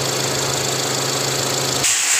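A 2020 GAC GS5 with a newly fitted turbo runs steadily close by, its engine humming evenly before the tone shifts abruptly near the end to a brighter hiss.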